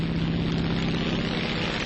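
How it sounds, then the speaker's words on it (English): Steady propeller drone of a DC-3 airliner cruising in flight around 1940, heard from inside the cabin as a continuous low hum with a constant pitch and no voices. "Not even the gentle scraping of a skyscraper can disturb the soothing lullaby of the plane's engine."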